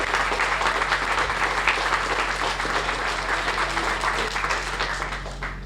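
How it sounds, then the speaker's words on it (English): A crowd applauds a construction manager at a homeless shelter groundbreaking, sustained outdoor clapping that stays even and fairly loud before tapering slightly at the end. "Round of applause for Dave."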